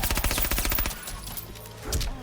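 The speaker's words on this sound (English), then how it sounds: "Then the second part is a low hitting gunshot, which is unsafe, but can also be amplified" Spawn's low-hitting gunshot special in Mortal Kombat 11 fires as a loud, close burst of rapid repeated shots, followed by a quieter lull and one more sharp impact near the end.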